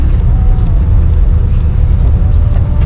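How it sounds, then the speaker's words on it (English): A 1962 Chevrolet C10 classic pickup truck with a 350 V8 engine driving along, heard as a loud, steady low rumble from inside the cab with no one speaking. "we're freaking driving the 962 C10"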